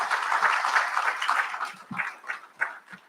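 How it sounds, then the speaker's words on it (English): Graduates at a college recognition ceremony break into a round of applause, a dense burst of clapping from a large crowd that thins into scattered claps toward the end. "So give yourselves a well-earned round of applause."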